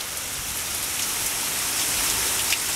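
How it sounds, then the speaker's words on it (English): Heavy hurricane rain driven in sheets by strong wind in Hampton, Virginia, a dense steady roar of water hitting surfaces close by, with no voices. "The wind is just, it's pushing the rain, it's just driving that rain."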